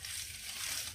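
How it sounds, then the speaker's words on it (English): A plastic bag holding meat crinkles and crushes close by, a short soft burst of rustling with no voices. "Excuse the plastic noise"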